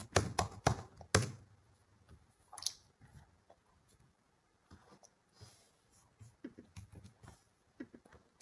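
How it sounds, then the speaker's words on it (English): Fingers type a prompt on a computer keyboard, giving a quick flurry of sharp, close key clicks at first, then sparser, scattered taps and short bursts, fairly quiet with no talking. "So I'm just gonna type it down like this"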